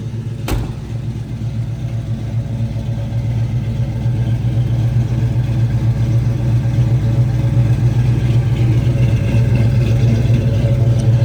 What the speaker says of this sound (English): That's the sound of a muscle car, guys.